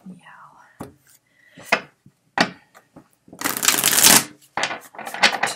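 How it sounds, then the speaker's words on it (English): A deck of cards shuffled in irregular bursts, with short riffles and snaps followed by a longer dense flutter, close and crisp. Faint whispery sounds come between the bursts. "So what I do is I shuffle till one card falls out."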